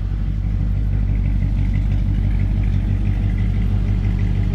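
The 429 V8 engine of a 1964 Cadillac DeVille Convertible idles with a steady, deep rumble and a slight rhythmic lope, close and loud, with no talking.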